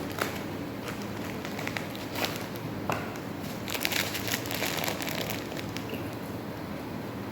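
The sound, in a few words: opening a gelatin packet, crinkling wrapper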